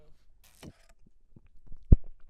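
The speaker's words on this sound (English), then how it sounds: "burping with the mic on the throat" A short, deep guttural burp erupts after a few soft mouth and throat noises, recorded with a microphone pressed against the throat, sounding close and muffled.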